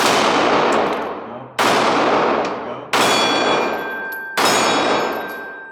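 A Glock 22 Gen 5 pistol fires four loud .40 S&W rounds at a target about a second and a half apart, each crack followed by a long ringing echo.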